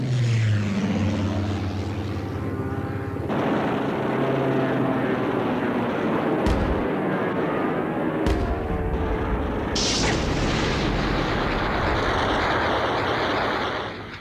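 German Focke-Wulf 190 fighter engines roar in wartime combat footage, a loud sustained propeller drone with abrupt cuts and bursts that sound like gunfire, continuous across the whole stretch.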